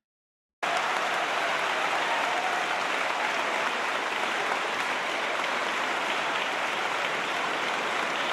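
A dense, even wash of applause for a child prodigy starts abruptly and holds steady at a constant level, sounding like a large audience clapping together.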